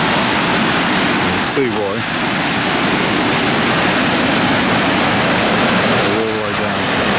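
Cascades waterfall pouring down a dark, steep canyon in Yellowstone, a loud, steady roar of falling water that fills the whole clip, with brief speech heard over it.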